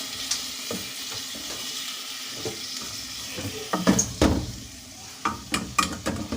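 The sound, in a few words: frying tori (ridge gourd) with tomatoes and masala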